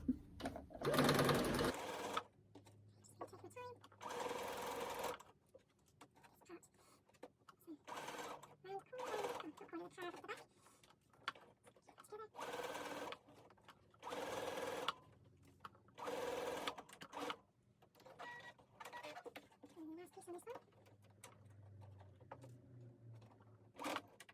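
A sewing machine stitches the bodice and button band of a self-drafted sundress in short and longer whirring bursts separated by pauses, close by, with some quiet talk between runs.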